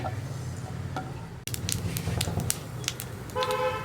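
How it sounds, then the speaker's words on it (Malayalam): A teaspoon of mustard seeds hitting hot oil for upma crackles with sharp, irregular pops that start abruptly and scatter over a few seconds, close by, with a brief steady tone near the end. "ഇപ്പോൾ നമ്മുടെ കടുക് പൊട്ടി തുടങ്ങുന്നുണ്ട്."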